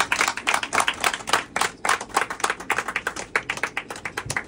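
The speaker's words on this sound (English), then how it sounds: "could we please have a round of applause for our flight crew for tonight's" A handful of people in a Boeing 747 cabin at a Braniff International reveal party clap for the flight crew, sparse, distinct handclaps in a quick irregular rhythm, close and fairly loud, with no talk over them.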